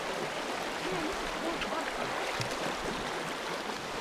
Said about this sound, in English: the nice babbling brook